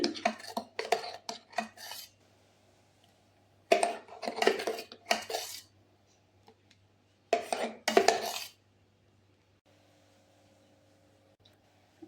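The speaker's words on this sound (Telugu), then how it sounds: "ఇవన్నీ వేసుకొని మంచిగా కలుపుకుందామండి." Homemade natural soap ingredients are mixed in a bowl: three bursts of a spoon scraping and clinking against the bowl, close and clear, separated by near-silent pauses.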